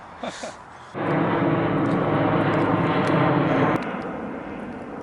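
An aircraft passes overhead at an outdoor overland vehicle event, its engine roar rising abruptly into a loud, steady drone that lasts a few seconds and then fades slightly as it moves away.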